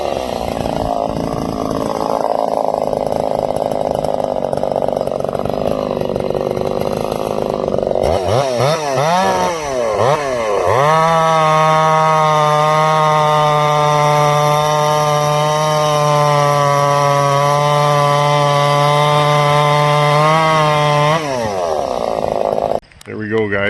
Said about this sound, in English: Corded XL76 Homelite. Really cool saw.